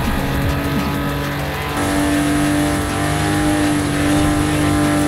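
A car engine races in Forza Horizon 5, a loud, sustained, high-revving roar that shifts gear partway through and holds strong to the end, with no talk.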